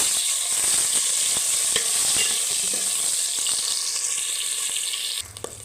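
Dried fish sizzles and crackles steadily in a hot pan, a dense broadband fry with scattered pops and the odd scrape, easing near the end.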